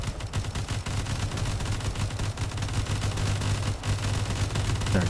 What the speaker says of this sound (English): There's a lot of turret fire